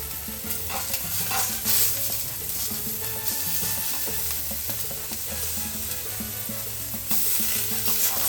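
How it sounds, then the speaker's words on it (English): Eggplant pieces sear in hot oil in a clean pan, a steady crackling sizzle with intermittent scraping and clattering as the pieces are moved, fairly close and without any talking. "add some oil and add the eggplants. We gotta make sure to sear every piece nice and golden brown"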